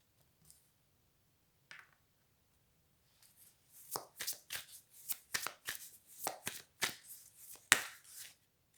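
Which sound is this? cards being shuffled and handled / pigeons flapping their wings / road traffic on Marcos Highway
cards being shuffled and handled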